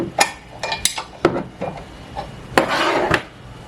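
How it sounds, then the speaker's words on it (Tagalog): An 18mm wrench loosening the table bolt on a WADFOW 350W drill press, making a series of irregular metallic clicks, knocks and scrapes, close by with no talking. "Gamit lang tayo ng 18mm na wrench para maluwagan."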